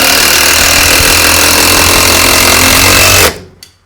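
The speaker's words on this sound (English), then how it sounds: "Next thing I'm going to do is start screwing them all together." A power driver drives screws into wooden blocks being joined for an anvil stand, whirring loudly and continuously for about three seconds before cutting off abruptly, with a faint knock after.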